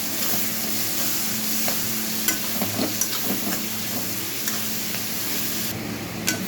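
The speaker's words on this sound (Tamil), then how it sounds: "இந்த வெங்காயம்லாம் நல்லா வதங்கிட்டுருக்கு" Onions sautéing with rock salt in a pan give off a steady, even sizzle, with a spoon scraping and stirring through them now and then in soft clicks and scuffs.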